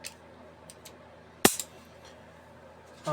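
A TT-33 pistol being safety-checked gives one sharp, loud metallic clack, likely the slide racking, set in an otherwise quiet room with a couple of faint handling ticks before it and a soft knock at the end.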